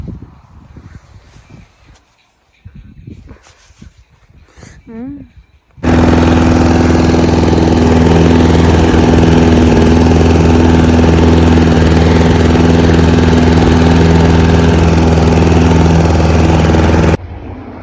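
A lawn mower starts up and runs loud and close with a steady droning engine roar while cutting wet, lumpy grass in Scotland, after a stretch of quieter handling noises.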